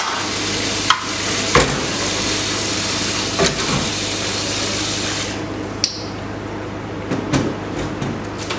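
An egg roll fries in hot oil with a loud, steady sizzle throughout, broken by a few sharp clinks of a utensil against the pan.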